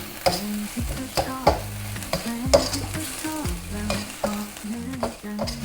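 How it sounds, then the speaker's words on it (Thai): Three kinds of chili peppers and torn kaffir lime leaves are stir-fried over high heat in a pan. A spatula scrapes and clacks rhythmically against the metal over a constant, crackling sizzle. "ผมจะใช้ไฟแรงในการผัดตลอดนะครับ"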